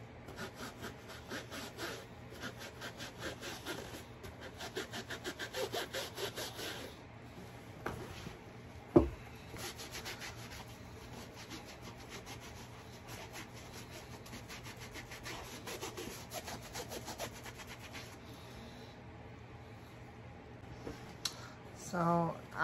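A Kate Spade beach bag being wiped to remove a stain, heard as quiet, rhythmic rubbing and scrubbing strokes in bursts, with a sharp knock partway through and soft handling noises between.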